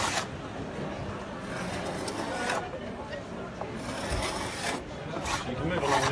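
Rasping, scraping strokes of a tool stripping lead paint from tongue-and-groove timber boards, a steady rough rubbing texture that continues throughout, close and moderately loud.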